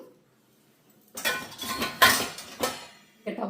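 Dishes, steel pots and pans being set into a dishwasher rack: a quiet pause, then a series of sharp metallic clanks and clinks close by, irregular in rhythm, with a last knock at the end.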